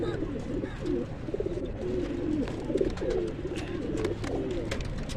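Breeder pigeons coo in repeated low, rolling calls, several birds close by, over a steady background hum with faint noise.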